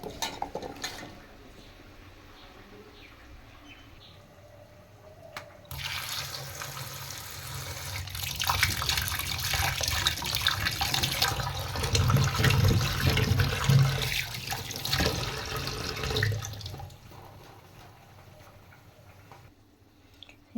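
Tap water gushes steadily into a sink while taro is rubbed and rinsed by hand, a broad hiss with faint clinks, starting after a quiet stretch and tapering off near the end.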